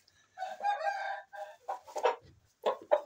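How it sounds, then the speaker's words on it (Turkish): A male turkey calling on a farmyard, a few gobbling bursts close by and fairly clear, with short pauses between calls and no talking over them. "Şimdi Hint horozunu"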